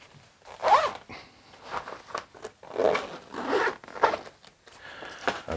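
The front compartment zipper of a TARION PB 01 backpack is pulled in several quick rasping strokes up close, with short pauses between them and no speech.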